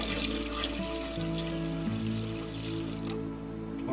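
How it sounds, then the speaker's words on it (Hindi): Cold tap water runs steadily over boiled eggs in a pot, a continuous close splashing rush with hissing spray and no talk throughout. "इसमें ठंडा पानी डालना चाहिए।"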